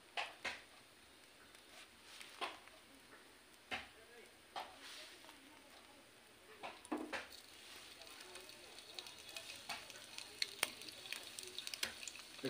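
Cut boiled eggs fry in hot oil in a pan, giving a faint, steady sizzle broken by scattered sharp pops and clicks that grow busier toward the end.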